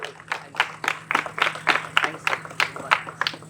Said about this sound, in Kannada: ಒಂದು ಜೋರಾದ ಚಪ್ಪಾಳೆ ಬರಬೇಕು. Clap louder.